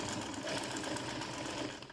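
A sewing machine runs steadily as it stitches a straight seam for a beginner, a continuous close whirring drone that holds for about two seconds before easing slightly.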